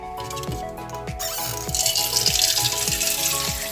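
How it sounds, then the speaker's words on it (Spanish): Water runs from a tap into a pot with a steady gushing rush and a rising, filling tone, accompanied by a few regular clicks or drips. "agarraremos la olla, la llenaremos de agua"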